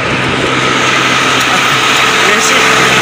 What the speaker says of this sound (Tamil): மெஷின், டிராக்டர் மெஷின், இதில் மண்ணேற்ற மெஷின்.